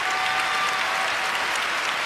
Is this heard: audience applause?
yes